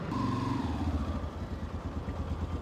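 Motorcycle engine running steadily at a low, even rumble, close and continuous with a slight clatter, no talking.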